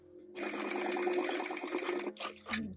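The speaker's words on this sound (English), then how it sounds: "we're going to get this up as snug as we can to the bar and stitch this down." A sewing machine stitches down a bar on a sewing project in one close, fast burst of rapid needle clatter lasting about two seconds, then a short second burst before it stops.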